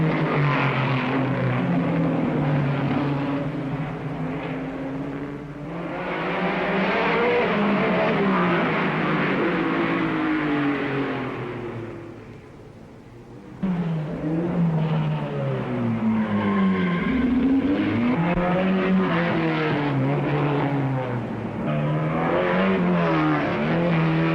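Formula 1 race cars from 1959, Ferrari and BRM, roar past with sustained loud engine drones that rise and fall in pitch, briefly dipping before another car surges through.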